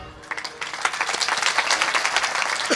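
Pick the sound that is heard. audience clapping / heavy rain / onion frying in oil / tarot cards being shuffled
audience clapping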